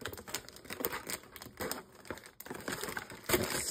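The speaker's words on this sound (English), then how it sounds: "Using the scissors as a knife." Scissors used as a knife to cut open Pokémon card packaging make close crinkling, tearing plastic sounds in irregular bursts, with a few sharper crackles as the wrapper gives way.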